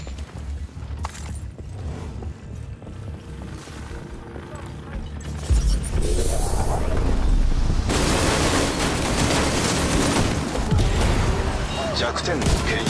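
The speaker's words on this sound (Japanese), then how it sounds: "武器の備蓄を見つけた。 爆発させる。" A weapons cache explodes in The Division 2, a loud, dense burst of booming blasts and crackling gunfire-like pops that swells midway and stays heavy to the end, with a voice mixed in.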